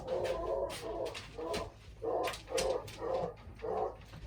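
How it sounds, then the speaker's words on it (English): A hound dog howls outdoors in a run of about seven drawn-out, wavering cries with short gaps between them, fairly faint and somewhat distant, with no one talking. "Oh, you can hear my hound dog howling."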